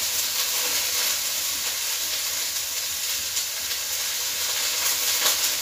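Onion fries in hot oil with a constant hissing sizzle and light crackle, close and steady, with no voices.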